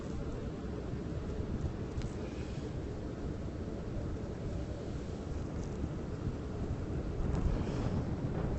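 Strong wind outdoors on a New York City night with the skyline in view buffets the microphone in a continuous low roar, rising slightly toward the end.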